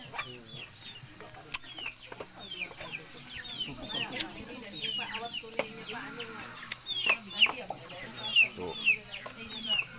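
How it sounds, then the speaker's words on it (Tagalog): Chickens clucking and chattering steadily, a flock close by on a rural farm with overlapping calls and occasional louder squawks, faint voices underneath. "Marami ng manok si kuya."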